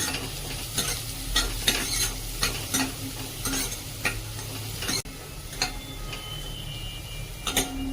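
Vegetables for lemon coriander soup stirred in a pot, a spoon scraping and clinking in irregular strokes over a soft background sizzle, close and alone.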